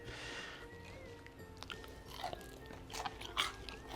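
Close, quiet bites and chewing of crispy Hakka pork belly, a Singapore zi char dish, with several sharp crunches that build toward the end over a faint room background.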